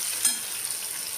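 Fish fat frying in a pan at home, producing a steady close hiss and sizzle with a small pop near the start.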